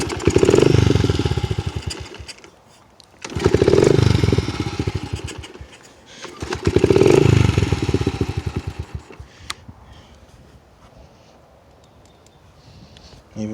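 2003 Honda XR70R dirt bike being kick-started: three loud sputtering bursts as the small engine briefly catches and dies, with quieter pauses between attempts, close by and then fading to near silence.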